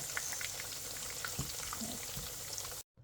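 Steady crackling sizzle of soy-marinated pork frying in a pan, dense and close, with scattered pops, cutting off abruptly at the end.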